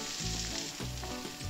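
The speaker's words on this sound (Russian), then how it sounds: "В сковороде растапливаем сливочное топленое масло" Diced onion fries in melted clarified butter in a pan, a continuous crackling sizzle with soft bubbling pops throughout, close and without speech.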